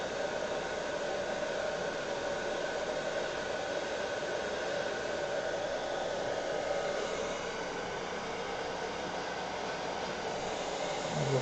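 A hair dryer blows steadily to dry ink, a constant loud whooshing hum that holds unbroken throughout with no voices.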